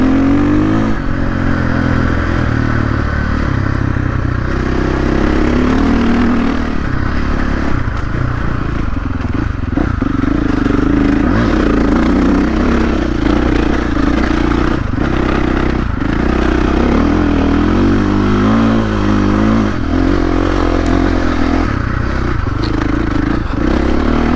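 2023 KTM 450SXF motocross bike running a Vortex ECU on the stock white map, its engine loud and close with continuous rough revving and blips, rising and falling throughout.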